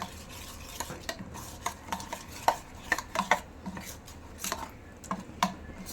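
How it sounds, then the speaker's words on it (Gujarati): Spice mix with Kashmiri chili and garam masala stirred into yogurt for Gujarati bhindi sabji, a steady series of soft spoon scrapes and light clinks against the bowl, close and fairly quiet, with no talking. "હવે હું બધો મસાલો દહીંમાં મિક્સ કરી લઈ"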